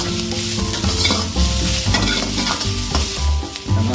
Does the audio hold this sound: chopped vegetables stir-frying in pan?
yes